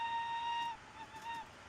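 A model railway locomotive whistle gives a clear, steady tonal toot, followed by a shorter, fainter wavering second note, close and alone.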